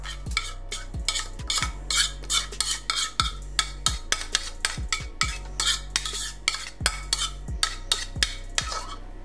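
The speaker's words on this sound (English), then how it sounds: "we got a pan right here with some foil. We're gonna drop these tomatoes on there." Tomatoes dropped one after another onto a foil-lined pan, a rapid series of close, crisp taps and rustles with a faint low hum underneath.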